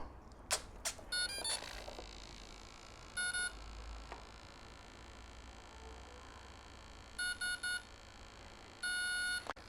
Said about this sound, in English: I'm going to calibrate the ESC by putting the throttle on full.